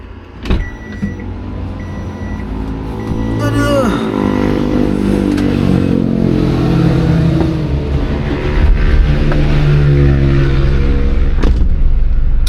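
A Volkswagen car on a Yogyakarta city tour starts up with a clunk, then its engine is revved repeatedly, the revs rising and falling loudly and close.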